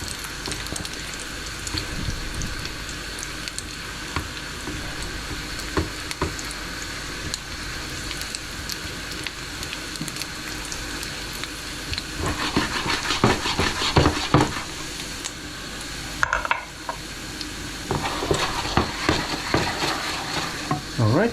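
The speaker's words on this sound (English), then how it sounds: "Alright, so garlic is getting nice golden brown." Fresh garlic fries and sizzles in a pan with a continuous crackling hiss, joined midway by louder stirring and scraping, close and without talk.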